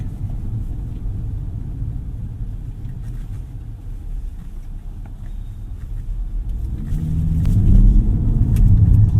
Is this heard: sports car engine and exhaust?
yes